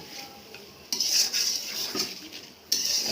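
Masala spices are stir-fried in a pan, the spoon scraping and clattering against metal in bursts over a low sizzle, close and fairly loud with no voices.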